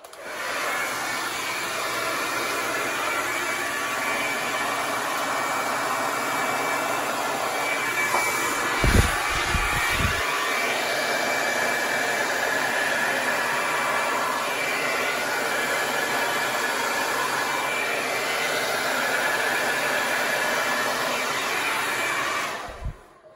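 An electric blower, like a hair dryer, runs as a loud, continuous whirring roar for about twenty seconds while acrylic paint is blown across a canvas, with a brief low thump midway and no talking.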